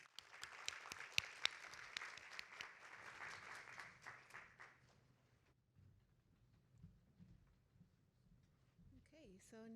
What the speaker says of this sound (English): Let's give him one last round of applause.